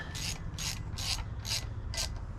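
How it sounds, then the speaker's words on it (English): A ratchet wrench with a 1/4 inch socket tightens an ignition coil bolt on a 5hp Briggs and Stratton engine. Five quick, close ratcheting bursts come at an even pace over a steady background hiss, with no talking. "Just tighten that down now with my 1/4 inch socket."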